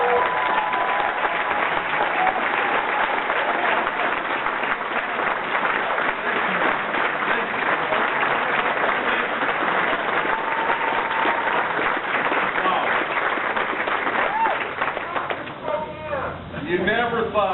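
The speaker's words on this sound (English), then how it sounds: "Let's give him a round of applause." Sustained audience applause fills a room at a political event in Spokane, dense steady clapping with crowd noise throughout, a voice briefly emerging near the end as it fades.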